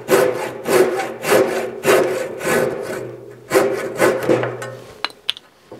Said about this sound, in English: Then you can get your handsaw